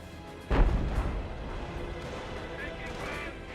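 A Hummel artillery barrage in Company of Heroes lands as a sudden heavy boom, followed by rumbling blasts and battlefield clatter, all running under continuous commentary.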